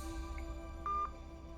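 Telephone keypad dialing tones sound during a phone call: a short, quiet beep, then a louder, sustained tone a moment later, over a low steady hum.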